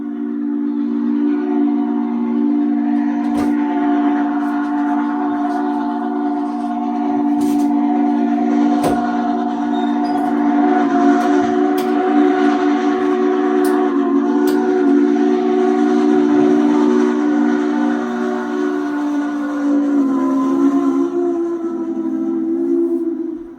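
A loud, sustained steam excursion train whistle at the Chattanooga station, with layered chime tones, blows almost continuously, with brief clanks and rumbling underneath.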